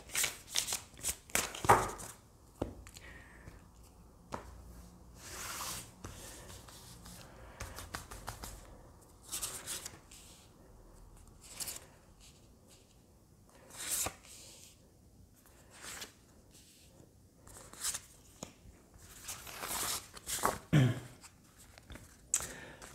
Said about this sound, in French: Alors on va tirer d'autres cartes.